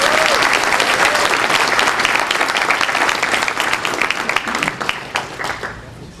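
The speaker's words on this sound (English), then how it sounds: "So let's give a round of applause." An audience at a 2012 chamber of commerce annual dinner breaks into loud, sustained applause, dense clapping from a roomful of people that thins and fades toward the end.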